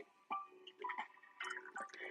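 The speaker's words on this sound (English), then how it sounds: "I just need to pour myself some more tea" Tea poured into a cup in a pottery studio, a close liquid trickle and clinking in short bursts with brief pauses, no talking.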